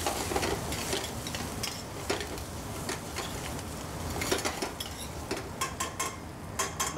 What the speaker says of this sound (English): now is the time I'll add the curry leaves